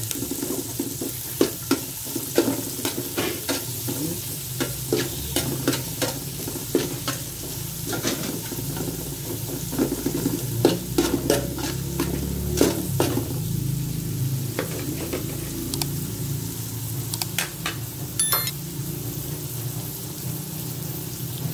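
Ginger and onions sizzle steadily in a hot pan while a utensil stirs them in repeated scraping strokes, close and fairly loud, with no talking.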